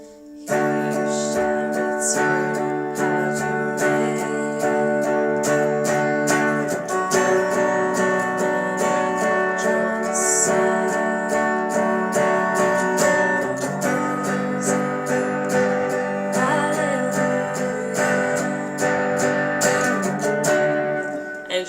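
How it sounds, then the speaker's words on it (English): An electric guitar strums full bar chords in a steady driving rhythm, loud and up close, with no voices. "that's when you'll actually be just strumming full bar chords."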